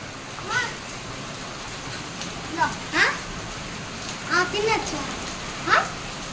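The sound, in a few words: hailstones falling on tin roof sheets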